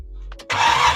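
An LS-swapped Genesis Coupe engine cranks on carburetor cleaner: a low whirring turn-over with a couple of brief pulses, then a sudden loud, rough burst of roar that holds to the end.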